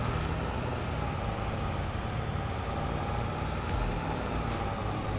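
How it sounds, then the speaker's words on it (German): A V8 vehicle engine in Farming Simulator 22 drones steadily at a constant low rumble, loud and close, with no speech over it. "Aber der Sound ist schon geil von dem V8."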